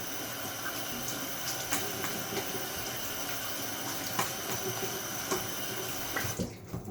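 Water from a tap runs steadily over a Gillette Slim safety razor for a quick rinse during a shave, a continuous close splashing wash that cuts off near the end.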